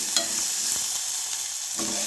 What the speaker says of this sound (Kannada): ಈಗ ಕರಿಬೇವು ಸೊಪ್ಪು ಹಾಕೋತಾನೆ. ಚೆನ್ನಾಗಿ ಫ್ರೈ ಆಗಬೇಕು.